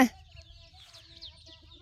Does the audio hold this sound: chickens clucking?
yes